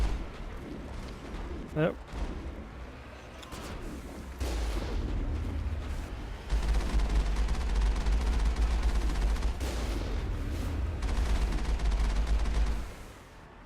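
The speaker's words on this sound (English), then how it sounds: "I don't even see any of these space pirates I'm shooting at." Sustained volleys of sci-fi gunfire in Mass Effect as the player shoots at space pirates, dense booming bursts running almost throughout with a brief spoken word near the start.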